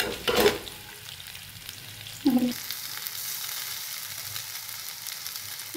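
Soaked flattened rice (aval) frying with softened onions and asafoetida in a pan for green tamarind aval, a steady close sizzle with two brief louder stirring scrapes, no talking.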